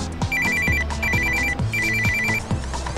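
Telephone ringing with an unwanted loan call, a loud close electronic ring repeating in regular bursts of trilling tones with short gaps between, no voices.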